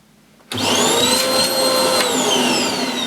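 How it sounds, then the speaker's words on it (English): A Hoover Blaze bagless cylinder vacuum cleaner switches on abruptly and runs at full power, a loud close steady whine and rushing suction roar with no one speaking. "I'm just going to have to check that there is suction at the end of the hose"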